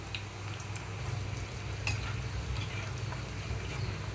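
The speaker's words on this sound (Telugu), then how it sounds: "మీడియం ఫ్లేమ్లో ఉంచి వేయించుకుంటున్నాను" Cabbage 65 pieces frying in hot oil over a medium flame, giving a steady close sizzle with faint crackles and a brief clink partway through, no talking.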